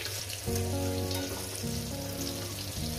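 Garlic frying in oil for a mustard-greens and dried-fish mash, a continuous dense sizzle close by, bright and crackly, with no voices over it.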